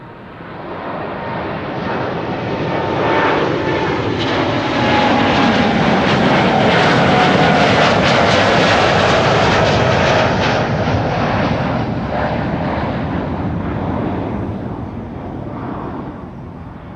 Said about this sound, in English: KLM flight 641 to New York JFK is still coming because the show must go on.